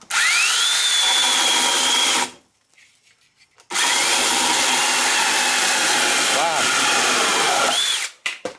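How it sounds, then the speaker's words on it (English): Sainlogic 6-inch mini chainsaw cutting through a 2x4, a loud close high buzzing whine that revs up, cuts steadily, drops briefly to idle sputter, then runs again before winding down. "we're gonna cut a piece of 2x4 off"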